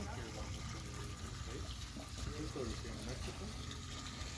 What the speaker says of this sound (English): What's that water coming out the side there?